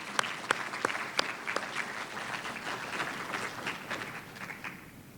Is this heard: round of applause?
yes